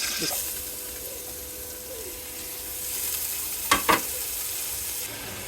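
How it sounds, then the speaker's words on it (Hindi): Dry fruits frying in cooking oil in a pan for chicken mandi, a soft, steady sizzle with faint background voices and two sharp clinks near the end. "इसको हमने थोड़ा सा फ्राई करना है"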